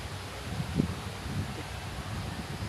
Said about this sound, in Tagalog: Kaso mahangin.